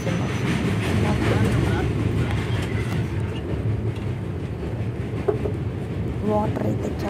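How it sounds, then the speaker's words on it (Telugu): Passenger train running fast across the Krishna Barrage, a steady loud rumble with wind buffeting throughout and no distinct clacks. "మేము వెళ్ళే ట్రైన్ మాత్రం చాలా స్పీడ్గా వెళ్తుంది"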